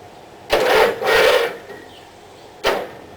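Starter on a Craftsman GT18 riding mower engine, fed directly by a jumper cable, churns in two short cranking bursts and then a brief third, up close with no voices.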